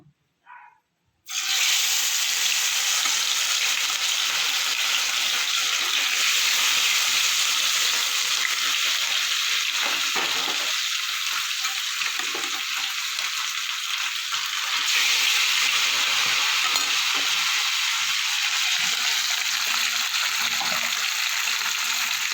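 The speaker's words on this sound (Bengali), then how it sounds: "এবার আমি একটা করে মাছগুলো ভেজে নেব।" Bhola fish slid one at a time into hot oil bursts into a loud, steady sizzle that fills the pan closely and continues unbroken after a brief quiet start, with no voices.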